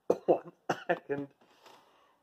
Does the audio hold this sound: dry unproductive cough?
yes